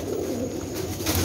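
Pigeons coo softly in a loft among a group of birds being shown, a low murmuring under steady background noise, with no talk.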